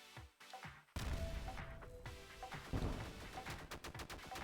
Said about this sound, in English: Oh, now I'm shooting.